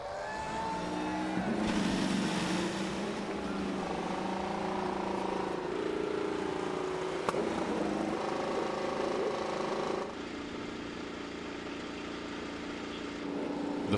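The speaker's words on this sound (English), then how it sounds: "The fans line the street to hear that sound. Those engines coming to life." IndyCar race car engines fire up together on the Long Beach street circuit for the 2017 race, a loud layered drone of idling and revving motors with rising and falling pitches from several cars at once.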